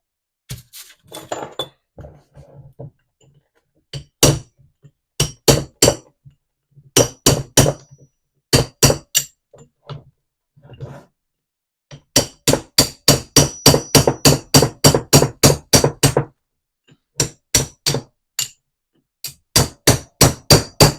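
Sharp metallic hammer blows on a Miata's rear coilover suspension, ringing out in bursts, sometimes single strikes, then long rapid runs of evenly spaced hits, loud and close.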